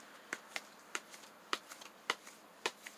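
Tarot cards drawn one by one from a deck, giving about eight sharp, crisp card snaps spread evenly and heard close up against a quiet background, with no talking.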